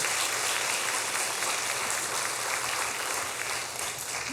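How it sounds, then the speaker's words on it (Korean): Sustained applause from a church congregation during a Sunday morning service, dense and steady clapping filling the whole stretch without pause. "우리 교사들 우리 박수를 한번 격려합시다"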